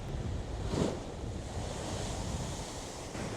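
Sea waves surge and crash against the shore in a steady, broad rush of surf, with a louder swell early on and wind buffeting the microphone throughout.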